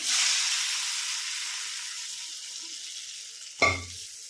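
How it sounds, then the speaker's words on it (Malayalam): Hot mustard seed tempering is poured into rice for a sweet pachadi, with a steady soft sizzle that fades out, then a short sharp splash and crackle as the oil hits. "കടുക് താളിച്ചത് പച്ചരിക്കകത്തേക്ക് ഒഴിച്ചു കൊടുക്കുക"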